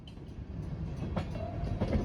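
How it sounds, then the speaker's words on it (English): A Fore River Railroad freight train rolls slowly to a stop, with low rumbling, faint metallic squeals and a few clanks of cars settling, fairly close and without voices. "There was virtually 0 time between when this train stopped and reversed"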